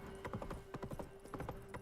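Horse hooves clip-clop in The Witcher video game, a quick run of close, crisp footfalls with a steady background hum and a brief whinny-like touch.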